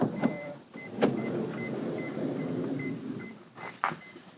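A power sliding door on a 2008 Mitsubishi Delica D5 van closes with a steady electric motor whir, framed by sharp clunks at the start and a latching thud near the end, close and clear.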